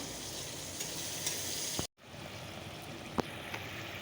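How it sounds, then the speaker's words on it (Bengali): Potatoes frying in a pan, giving a steady moderate sizzle that cuts out briefly midway, with a few soft clicks and knocks. "বসিয়ে দিয়েছি আলুটা ভেজে নিচ্ছি"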